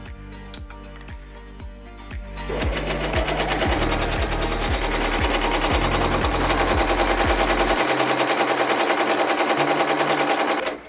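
An embroidery machine sewing a hanging quilt, with a loud, fast, steady mechanical chatter of stitching that starts up and keeps going, a few slower clunks before it.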